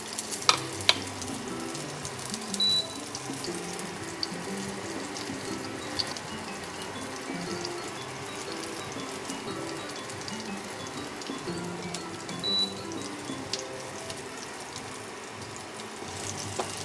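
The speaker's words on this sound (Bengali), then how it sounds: "প্রথমে এই কটা দিয়ে আমি ভেজে নেব।" Rajma tikki patties frying in hot oil, a dense, even crackling sizzle that carries on steadily throughout with faint pops, close up and with no talk.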